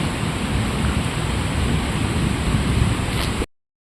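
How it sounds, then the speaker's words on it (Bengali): Heavy rain pours down on a rainy day, a dense, steady roar of falling water that stays constant and then cuts off abruptly. "আমি বুঝতে পারছি এত বৃষ্টি হচ্ছে।"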